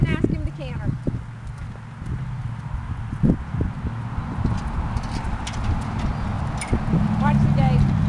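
A horse canters around an arena, its hooves giving a rhythmic clip-clop on the ground close by, while a person talks over the hoofbeats and birds chirp faintly in the background.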